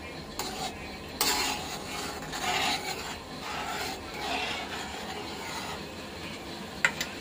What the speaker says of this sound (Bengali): এই যে ঘি দিয়ে দিচ্ছি।